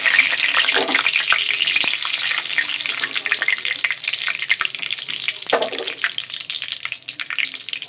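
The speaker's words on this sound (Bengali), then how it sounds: "এখানে ফোড়নে দিয়ে দেবো তেজপাতা, গোটা গরম মশলা" Bay leaves and whole garam masala fry in hot oil as the tempering for a crab curry, giving a loud, close, continuous sizzle with crackles and occasional stirring clinks throughout.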